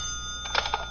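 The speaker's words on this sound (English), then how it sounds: "That's my phone. May I answer it?" A telephone bell rings in a short burst in an old-time radio detective drama, bright and fairly close over a quiet background.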